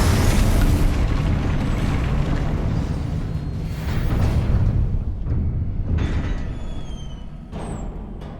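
Booming spell explosions from the fire-blast Confringo curse in the game Hogwarts Legacy, a run of heavy blasts and rumbling bursts with sharper pops near the end, loud and without talk.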